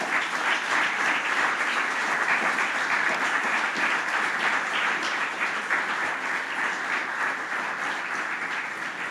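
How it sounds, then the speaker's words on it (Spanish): A church congregation applauds steadily and loudly for about nine seconds, a dense, even wash of many hands clapping with no break and no voices over it. "Dale un aplauso a Cristo,"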